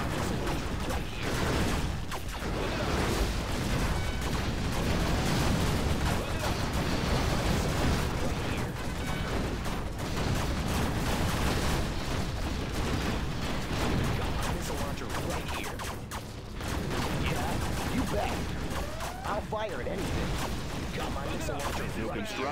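Dense, continuous battle din from a Command & Conquer Generals Zero Hour match, USA laser forces against GLA on Ridgeline: rapid gunfire, artillery blasts and mechanical clatter layered loudly throughout, with unit voice lines over the fray.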